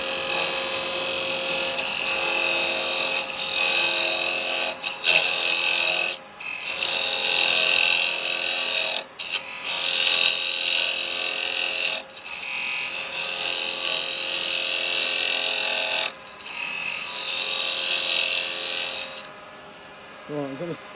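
A lathe spins a small block of very hard wood while a 6mm carbide cutter scrapes it, producing a loud, sustained high rasping whine broken by brief pauses as the tool lifts off.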